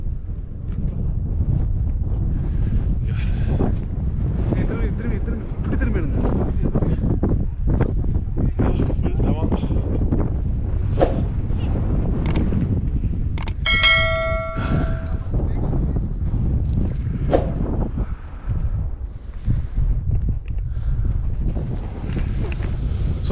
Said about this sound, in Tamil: நிறைய காற்றடிக்குதோ.